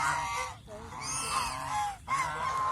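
Geese at a goose farm give loud, close, repeated nasal honks in overlapping bursts, several birds calling over one another with brief gaps between calls.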